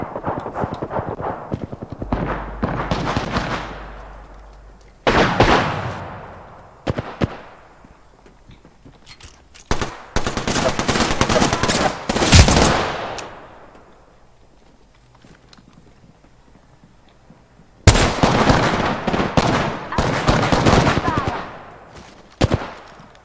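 Bursts of automatic gunfire in Apex Legends, several loud rapid volleys separated by pauses, each trailing off into echo, with a stretch of quiet in between.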